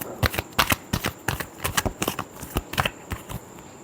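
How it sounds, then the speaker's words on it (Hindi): Tarot cards are shuffled up close in a quick run of sharp riffling and slapping bursts, about a dozen crisp rapid pulses with no talking. "Last shuffle."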